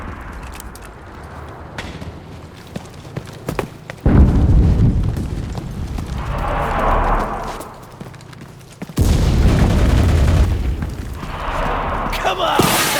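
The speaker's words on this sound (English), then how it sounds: "Artillery! Fire at the square!" Heavy artillery blasts in the WWII shooter Enlisted, Normandy invasion attack on a steel mill: deep booming explosions land around 4 and 9 seconds, each followed by rumbling roar, with scattered gunfire and battle noise throughout.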